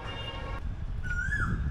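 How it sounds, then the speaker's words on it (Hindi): An Asian koel on a leafy university campus in Allahabad gives a single clear, rising whistled call, moderately distant, over low background rumble. "कोयल की प्यारी सी आवाज़ सुनाई पड़ रही है"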